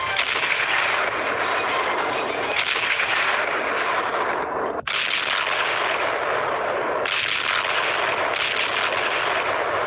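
Explosions and artillery fire from a conflict news report roar continuously and loudly, a dense rumbling barrage with a few sharp breaks and surges throughout.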